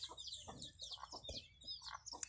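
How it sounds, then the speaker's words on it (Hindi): Chickens clucking close by in a yard, several short overlapping clucks and chirps in a quick, uneven rhythm. "यहाँ पर टीलू का एंजॉय करते हुए और बाकी मुर्गियाँ भी"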